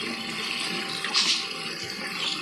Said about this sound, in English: I'm just using cold water.